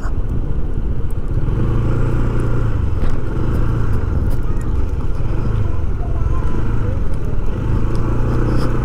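Motorcycles travel along a road under construction, their engines droning continuously nearby with small swells as they rev and pass, and a voice is heard briefly.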